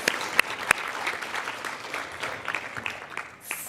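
A crowd at an annual law foundation meeting and awards event gives a round of applause, an even, moderately loud patter of many hands with a few sharper nearby claps.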